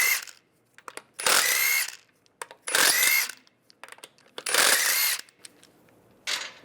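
Power tool spinning out the wheel lug bolts on a 1999-2005 Volkswagen Jetta with a 17mm socket, in four loud, close whirring bursts of about a second each, separated by quiet pauses with faint clinks.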